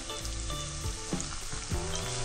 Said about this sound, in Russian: Жарим его несколько минут до прозрачного состояния.